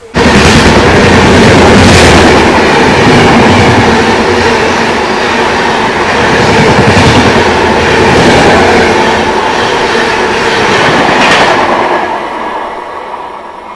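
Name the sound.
express train passing and overtaking a stopped train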